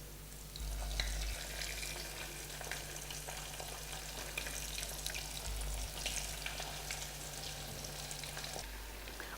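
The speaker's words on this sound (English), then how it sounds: "While still frying there" Continuous sizzling and crackling of fish balls frying in hot oil, close up and steady, with a low hum underneath.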